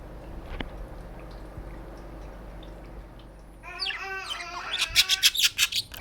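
A pet budgie gives a quick burst of bright, close chirps and warbles that grows busier toward the end, after a quiet stretch with faint room noise.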